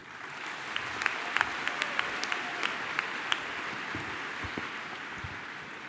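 Sustained applause from a university commencement audience honoring the faculty at Denison University's Class of 2024 graduation, a steady broad wash of many hands with a few sharper individual claps standing out.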